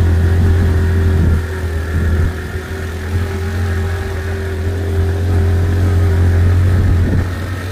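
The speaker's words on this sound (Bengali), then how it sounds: "একটা বাইক ভাড়া করে বারেকা টিলা যাচ্ছি।" A rented motorcycle rides uphill toward Bareka hill in Sunamganj, its mid-pitched engine droning loud and close with steady hum and brief throttle rises, plus wind noise, and no talking.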